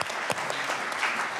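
Conference audience applauding, a steady wash of many hands clapping at moderate, even volume throughout, with no voices over it.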